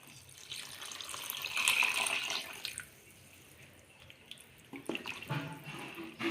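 Water runs and splashes into a pot of elephant foot yam curry for a few seconds, then tapers off into soft drips and light clatter.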